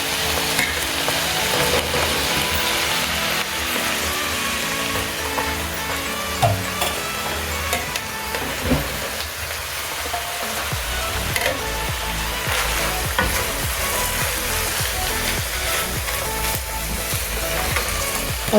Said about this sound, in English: My veggies are ready. I'm going to add my white rice